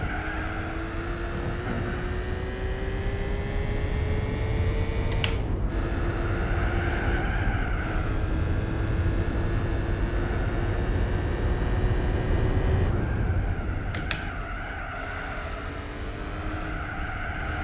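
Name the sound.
BMW car engine driving in Gran Turismo 4 video game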